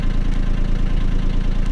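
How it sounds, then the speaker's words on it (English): A boat's inboard motor idles steadily and loudly up close, a dense low rumble with an even pulsing throb and no voices. "then I'll turn the motor on again"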